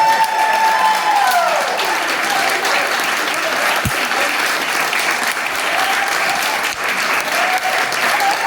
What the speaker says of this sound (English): Give these people an incredible round of applause.